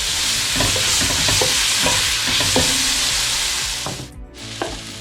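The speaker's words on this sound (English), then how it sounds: "you can add ginger garlic paste, 2 tablespoons. Saute for a minute again." Ginger garlic paste for chicken Madras sizzles loudly in a hot pan, a dense continuous frying hiss with clattering stirs of a spoon throughout, close up, easing off near the end, no voices.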